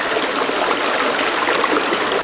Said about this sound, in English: This is the stream that feeds it.